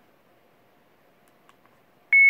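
After a couple of faint button clicks, an airsoft action camera emits one short, clear electronic beep as recording is toggled, close and alone in near silence.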